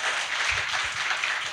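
An audience at a parliamentary report event in a theatre applauds steadily, a dense, even wash of clapping with no pauses across the whole stretch.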